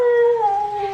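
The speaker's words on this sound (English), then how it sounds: "it's like now the damn Coco and Ivy is barking outside" A dog outdoors gives a single sustained, wavering howl-like cry lasting about a second, fairly loud and clear with no talking.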